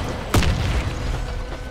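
A rocket launcher explosion in the video game Warface, a single deep boom with a sharp onset that rolls out into a low rumbling tail.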